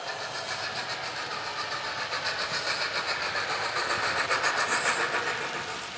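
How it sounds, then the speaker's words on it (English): TT:120 gauge model railway with two trains running in opposite directions around the outer and inner main circuits, giving a steady, close rolling rumble and fine clicking of small wheels over track joints, continuous and slowly building, with no voices. "already we have 2 trains running in opposite directions round the 2 main circuits"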